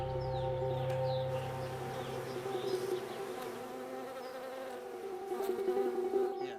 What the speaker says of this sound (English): Every spring, billions of bees are brought here to help pollinate the almond trees.